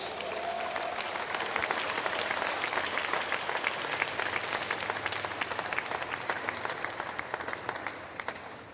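A church congregation applauds for Jesus during a sermon, a dense, sustained burst of many hands clapping that fills the room steadily throughout, with no talk over it.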